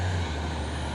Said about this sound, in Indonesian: Truk trailer si Basuri ini, wis ganteng kali wah.